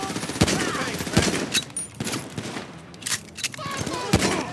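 Rapid gunfire crackles through a GTA 5 shootout during a repossession mission, with several sharp close shots and bursts coming in irregular clusters over game background noise.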